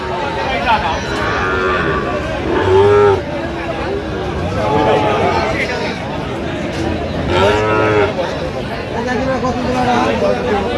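A Sahiwal calf, five to six months old, moos several times, drawn-out and fairly close, over a busy background of crowd chatter and voices.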